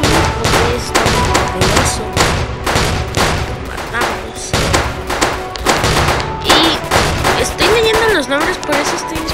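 Rapid revolver gunfire blasting at zombies in a video game, a dense run of sharp repeated shots with thuds and game effects, loud and close, under excited talking.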